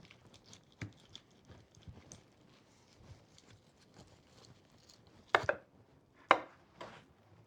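Roasted rosemary bistecca steak being sliced off the bone with a knife, a run of soft taps on a board, then two louder cuts near the end, close, with no speech.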